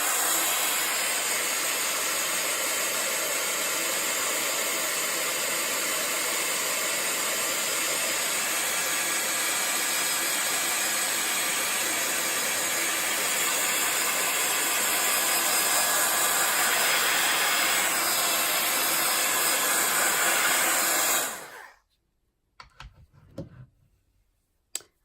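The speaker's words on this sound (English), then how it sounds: "just bear with me for a moment while I turn the heat gun on." A heat gun blasts steadily while drying paint on a craft background, a loud continuous rushing hiss running for about twenty seconds before cutting off abruptly, leaving faint handling noises.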